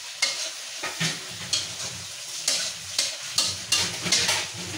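Spices for biryani stir-fried in a large pot at a biryani house, loud rhythmic scraping strokes over a continuous sizzle, repeating roughly every half second to second with no talking.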